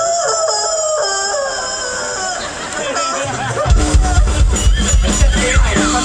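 A stage performer at an outdoor arts plaza imitates a rooster crowing with a voice, drawn-out wavering calls followed by crowd chatter and laughter swelling underneath.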